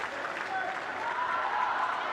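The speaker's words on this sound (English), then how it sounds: "listen to the reaction of the crowd" Tennis crowd at the Billie Jean King Cup Finals applauding a big point in a steady, dense wash of clapping and cheering that holds level throughout, with a voice speaking over it.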